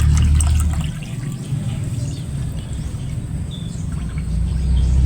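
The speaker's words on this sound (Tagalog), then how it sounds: "Lalagyan po natin ng isang cup noodles ng ating tinimpla na fertilizer." Mixed liquid fertilizer for potted grapes is poured into 16 liters of water, giving a steady close pouring and splashing wash throughout, with faint bird calls in the background.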